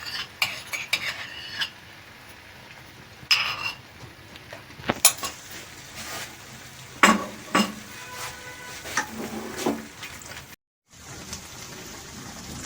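Whisked sour yogurt stirred into paneer gravy in a pan, with repeated spoon scrapes and clinks against the metal in irregular bursts over a soft background hiss.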